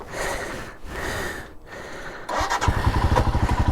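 A Royal Enfield Himalayan single-cylinder motorcycle chugging along an icy trail, its engine thumping steadily, then swelling into a louder, rapid pulsing beat as the rider opens the throttle.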